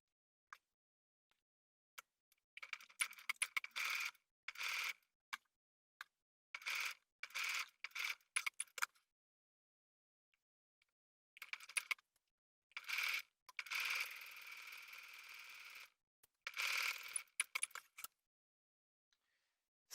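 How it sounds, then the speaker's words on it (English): A home sewing machine stitching a shirt's front yoke near the pocket, running in repeated short whirring bursts separated by pauses, close and clear with no talking. "And now I'm going to stitch from the edge to where it meets the stitching for the pocket."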